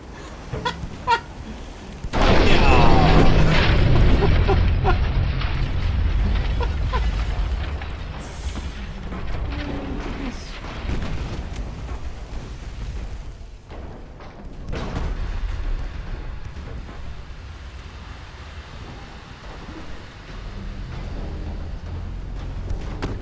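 Torpedo explosions in a naval video game with Austro-Hungarian ships: a sudden loud booming burst erupts after two seconds, then a sustained rumbling roar of blasts and churning water continues at high level to the end.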